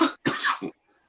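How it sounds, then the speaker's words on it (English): Two harsh coughs in quick succession, close and loud, followed by silence. "I'm gonna be coughing."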